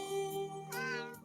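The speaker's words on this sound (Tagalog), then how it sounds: "Naggapo na dito pusa ko na." A domestic cat meows indoors, a drawn-out harmonic cry followed by a second rising meow, close and clear with light room tone behind, set within an Ilocano-language drama.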